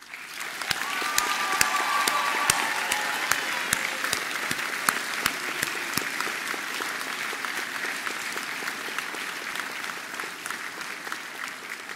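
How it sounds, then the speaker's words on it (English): A graduation ceremony audience claps in a steady, loud, full-room burst of applause that builds early and then holds, with scattered sharper claps standing out nearby. "I think you all deserve a round of applause."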